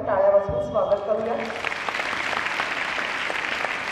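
Audience applause welcoming the chief guest at a girls' high school Republic Day function, a voice speaking first and then a steady wash of many people clapping.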